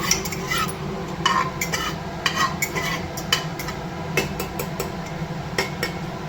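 Cumin seeds crackling in a little hot oil in a pan for a mixed vegetable curry, a dense close sizzle with sharp clicks and clatters of a utensil on the pan, no voices.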